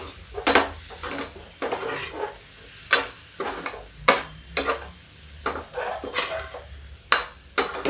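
A spoon scrapes and clinks against a pan as vegetable curry with amchur powder is stirred, the strokes coming in an irregular rhythm over a soft sizzle underneath, with no talk.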